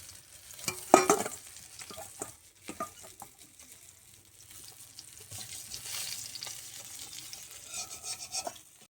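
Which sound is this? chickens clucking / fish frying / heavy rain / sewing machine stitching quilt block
fish frying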